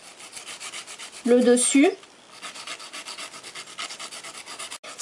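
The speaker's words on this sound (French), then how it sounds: "S'il y a des strass ou de la peinture ou des stickers, on lime." A nail file rasps across a fingernail to file off decorations such as rhinestones, paint or stickers, giving a steady, soft, close scraping rhythm through the clip, with a brief spoken voice near the middle.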